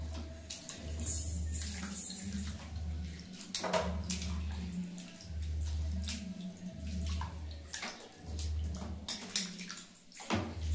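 Water splashes and sloshes in pulses as leafy greens are swished and rinsed in a basin, with brief pauses between rinses.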